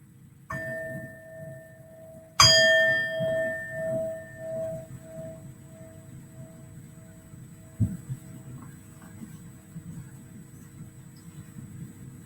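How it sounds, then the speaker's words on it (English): A bell rung once to open a meditation: a clear metallic strike that leaves a long, steady ringing tone slowly fading over several seconds, with a fainter strike just before and a soft low hum underneath. "I'll ring the bell and then you can just close your eyes and follow along"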